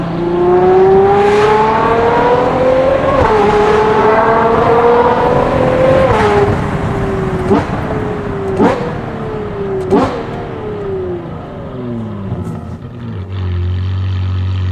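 A Ferrari Purosangue V12 with a Novitec exhaust accelerates hard, its loud, close howl rising through several gear changes marked by sharp shift cracks, then settling to a low idle rumble at the end.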